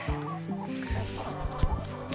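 Chickens cluck indoors, kept inside on a cold day: a string of short, close, irregular clucks and murmurs from several birds with faint background rustling and no talking.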